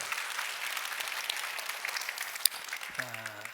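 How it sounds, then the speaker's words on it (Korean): A church congregation at an Easter Sunday service gives a brief round of applause, moderately soft and even, ending as a voice begins to speak. "여러분 감사한 마음으로 박수 한번 해주세요"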